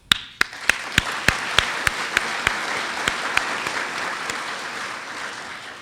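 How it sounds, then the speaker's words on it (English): A civic audience at a city's state of the city address gives a round of applause: sparse, distinct individual claps ringing out one by one over a softer wash of clapping that gradually thins. "Let's please give them another round of applause for them."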